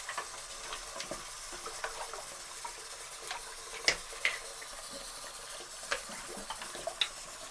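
Rifle and pistol magazine parts, including the follower and spring, are rinsed under running water in a sink, with a steady faint stream and scattered light clicks and knocks of metal parts against the basin.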